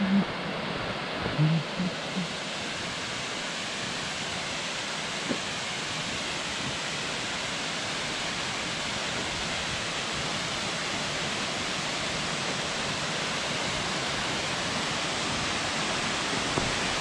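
Steady broadband rush of a waterfall at Nanu Oya, Sri Lanka, running with low water flow, a continuous even roar that never lets up, with no voices.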